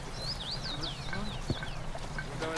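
Rapid chirpy clucking from a chicken, fairly close, over a busy background with a voice murmuring underneath.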